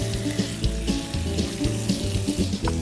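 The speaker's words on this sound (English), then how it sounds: "take my meat over here and listen to it sizzle." Steady crackling sizzle of venison frying in a hot oiled pan, continuous and close, with faint clinks and scraping underneath.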